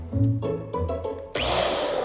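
Power drill used while putting up shelves indoors, starting with a few short bursts of lower-pitched, uneven tool noise, then switching to a loud, steady high-pitched whine that holds to the end.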